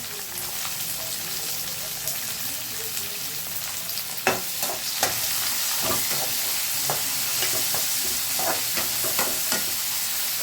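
Onions frying in oil for poha after peanuts and chillies, a steady close sizzle with crackles and pops, and occasional sharp clinks of stirring against the pan.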